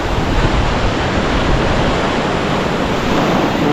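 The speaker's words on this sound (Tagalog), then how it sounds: "Ang alon no." Rough ocean surf crashes during a typhoon, a loud, continuous roar of breaking waves mixed with wind buffeting the microphone, with no voices.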